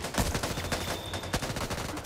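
Gunfire in the zombie shooter Back 4 Blood, a run of sharp in-game shots and bursts layered over dense game noise for about two seconds.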